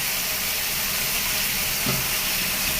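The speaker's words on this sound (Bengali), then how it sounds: "এই গুঁড়ো মাছটাও আমি ভেজে নেব" Small fish fry in hot oil with a continuous close hiss and a faint sizzle and no speech.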